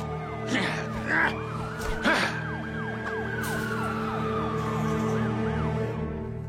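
A fire engine siren in an animated Teenage Mutant Ninja Turtles cartoon wails in rising and falling sweeps, loud and close, after a couple of sharp bangs at the start.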